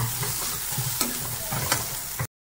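Long-sliced onion stirred in a hot pan with a steady sizzle, spoon or spatula scrapes landing in a few distinct strokes, close and fairly loud, no talking.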